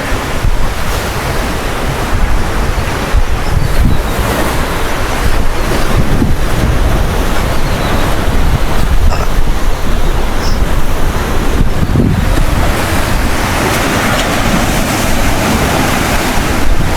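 Sea waves surge and wash steadily onto the beach at Cijin Island, loud and close, with heavy wind rumble buffeting the microphone throughout and no voices.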